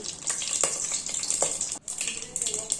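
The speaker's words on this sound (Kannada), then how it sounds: "ಜೀರಿಗೆ ಹಾಕೊತಾ ಇದ್ದೀನಿ." Cumin seeds dropped into hot oil for a beetroot palya, giving a steady, close crackling sizzle with short bright pops and a brief dip in the middle.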